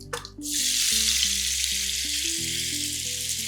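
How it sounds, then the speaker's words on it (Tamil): Boiled, cut potatoes tossed into hot oil crackle into a loud, steady sizzle that carries through the whole stretch, with a brief clatter at the start as they go in. "இப்போது அடுத்து இந்த வேக வச்சு கட் பண்ணி இருக்கிற உருளைக்கிழங்கை சேர்த்துக்கலாம்"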